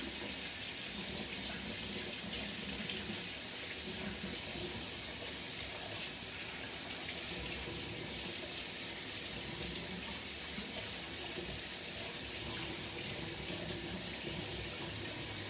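Water from a tap running steadily over gloved hands being rinsed off at a sink during acrylic pour painting, a continuous even gushing stream with no talking.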